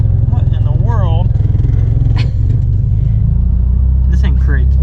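A Mitsubishi EVO X with an engine fault rumbles loudly and steadily from inside the car while it drives, with people talking over the deep drone.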